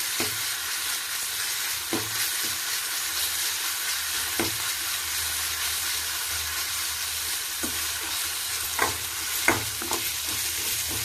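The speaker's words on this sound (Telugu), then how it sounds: "అల్లం వెల్లుల్లి కొద్దిగా సేపు వేగనిద్దాం." Ginger and garlic frying in a pan, a steady close sizzle with occasional soft scrapes of a stirring spoon, no voices.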